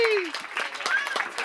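Wedding guests clap during the reception speeches, a brief, moderately loud patter of many hands with voices and cheering mixed in.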